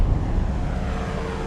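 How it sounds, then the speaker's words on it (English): A drone making a flyby, droning steadily like a small propeller airplane. The rough, broadband engine noise stays loud and continuous for the whole moment, with some wind-like rumble underneath. "The drone that does a flyby sounds like a small airplane"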